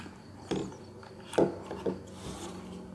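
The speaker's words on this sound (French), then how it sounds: "Donc on desserre la vis ici." A screw is loosened on a Zhiyun Smooth-Q smartphone gimbal, giving three short, quiet rasping scrapes close by against a faint background.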